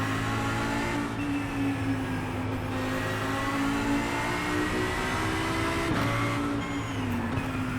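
Race cars accelerating while overtaking, with dense, continuous engine drone and rising and falling revs that stay loud and steady throughout, with no voices.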